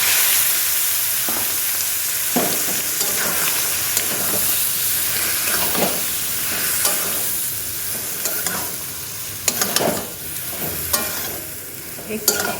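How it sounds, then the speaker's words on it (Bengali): Beans, ash gourd, potato and eggplant, tipped into a pan of cumin-coriander paste, fry and sizzle steadily with a constant hiss, punctuated by scraping stirs and clatters that grow busier toward the end. "এখন সবজিগুলো ঢেলে দিলাম"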